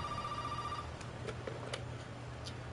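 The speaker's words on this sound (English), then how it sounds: "Oh, shit, my phone's ringing." Phone ringing in the horror video game Resident Evil 7, a faint electronic tone that sounds once and then gives way to quiet clicks and ticks.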